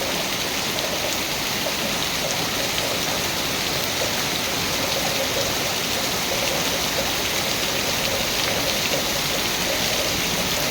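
Heavy rain pours with wind in a constant dense roar of water, loud and unbroken throughout, with no voices.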